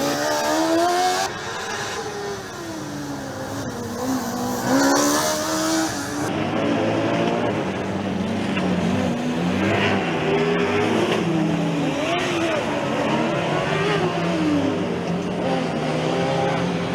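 Formula Student race cars pass close by on a track during an endurance session, their engines revving and shifting in repeated rising and falling sweeps, loud and continuous, with several cars following one another.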